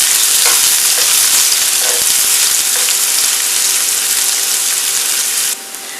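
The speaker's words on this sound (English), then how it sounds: "When your vegetable oil is really hot, you can put the onion like this and brown it gently until they are soft." Onions fry in very hot vegetable oil in a frying pan, a loud, steady close-up sizzle with faint stirring clicks, cutting off abruptly to a quieter hiss near the end.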